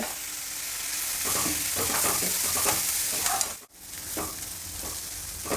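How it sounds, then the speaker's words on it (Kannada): Onions fry with salt in a pan for a dosa filling. A loud, continuous sizzle fills the scene while a spoon scrapes and stirs rhythmically, with one brief pause midway. "ಸ್ವಲ್ಪ ಉಪ್ಪು ಹಾಕ್ತಾಯಿದ್ದೀನಿ ಉಪ್ಪು ಹಾಕೋದ್ರಿಂದ ಈರುಳ್ಳಿ ಬೇಗ ಫ್ರೈ ಆಗುತ್ತೆ"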